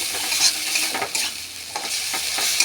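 Ridge gourd peel paste is stirred with sugar in a hot pan, giving a close, steady sizzle broken by repeated spoon scrapes and stirring knocks.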